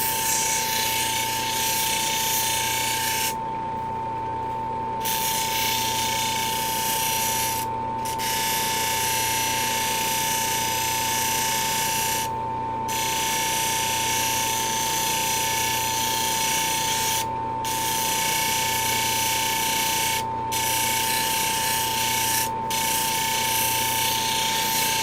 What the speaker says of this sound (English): About these wheels, when I'm cutting or grinding on them